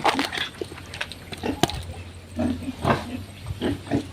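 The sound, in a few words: pigs oinking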